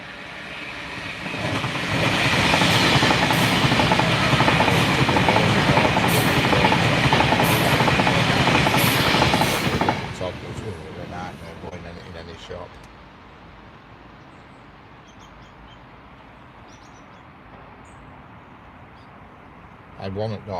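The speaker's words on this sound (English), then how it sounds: "And here comes another Pendolino." A Pendolino express train rushes past loudly for about ten seconds, its roar and rail clatter then dropping away sharply and fading into a quiet trackside background.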